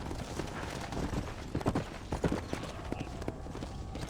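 Horse hooves clip-clop in Red Dead Redemption, the steady thudding steps moving at an easy walk near a ranch stable, loud and close, with a louder cluster of strikes around the middle.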